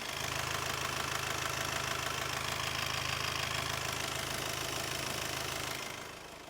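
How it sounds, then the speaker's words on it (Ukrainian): A 2011 Kia Sportage car engine idles steadily with a low, even rumble for several seconds, then cuts off near the end. "зараз покажу, як працює мотор. Мотор працює ідеально."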